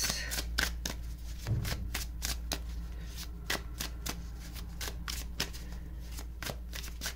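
Tarot cards shuffled and dealt out in a steady run of crisp riffling snaps and slaps, close and fairly loud, over a low constant hum with no talking.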